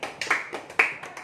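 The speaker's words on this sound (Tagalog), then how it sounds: "palakpak ka dyan" A few sharp hand claps, about five uneven single claps in quick succession, close and fairly loud, at an outdoor welding training demonstration.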